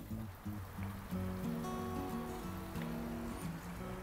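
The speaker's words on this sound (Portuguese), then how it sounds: "E é uma paz, o barulhinho da água." Steady flowing water in the landscaped garden of Château de Monte-Cristo, a soft continuous trickle and stream wash heard from nearby, with faint background tones and no talking.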